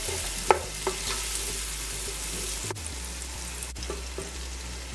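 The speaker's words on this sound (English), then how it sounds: "Now I'll add the onions. And I'm just going to saute this." Onions sautéing in salted butter in a pan, a soft steady sizzle with occasional stirring clinks and scrapes, close and alone without talk.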